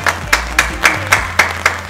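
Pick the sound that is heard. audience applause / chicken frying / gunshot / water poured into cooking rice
audience applause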